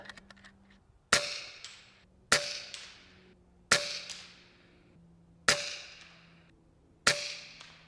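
A 40-grain slug from an FX Panthera competition air rifle strikes a steel spinner target: five sharp metallic clangs with ringing decay, roughly a second apart, after a few faint ticks.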